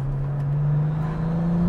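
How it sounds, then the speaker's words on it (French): Ferrari 296 engine running at a steady pitch with a faint turbo whistle inside the cabin, a smooth continuous hum with no talk. "t'as un petit bruit, t'as un petit son de turbo qui est pas désagréable du tout"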